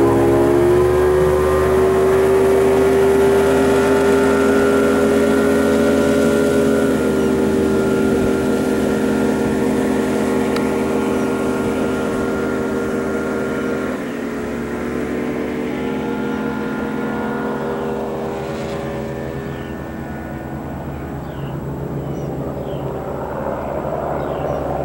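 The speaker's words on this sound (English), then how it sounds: "All the two-stroke engines are going to smoke a little bit when you first start up and get going" A 2000 Grady White 248 Voyager boat with a two-stroke outboard engine runs at a steady idle, giving a loud continuous droning hum with tonal harmonics that shift slightly in pitch partway through, with no voices.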